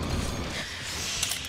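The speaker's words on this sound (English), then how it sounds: "Elevator 17 decks up. It'll take a while to show." An elevator mechanism creaks and grinds inside a sci-fi ship in the Aliens: Fireteam Elite video game, a steady, close mechanical hum with a faint metallic clank near the end.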